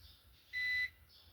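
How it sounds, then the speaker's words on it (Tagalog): A single short electronic beep from a UPS battery backup buzzer running on battery, faint and thin over a quiet low hum. "Buzzer."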